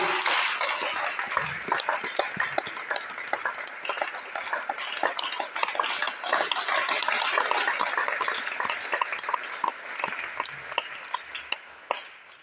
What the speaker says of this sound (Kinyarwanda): Reka nabasabe gukomera amashyi inyuma